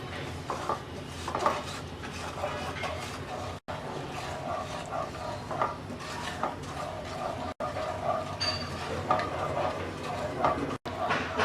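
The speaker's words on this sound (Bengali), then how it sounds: "মিডিয়াম লো আছে কিছুক্ষণ নাড়াচাড়া করলেই ক্যারামেলটা তৈরি হয়ে যাবে।" A pan of sugar caramel cooks on medium-low heat with intermittent scraping and clinking of a stirring utensil against the pan over a soft, steady background hiss.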